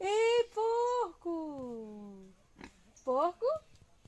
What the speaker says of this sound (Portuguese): Porco! Olha, gente, que saudade. Ei, porco!